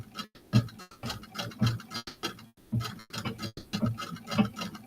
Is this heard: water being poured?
no